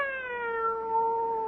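A single drawn-out cat meow in an old-time radio mystery drama, clear and fairly close, sliding slowly downward in pitch and sustained for over a second with no voices over it.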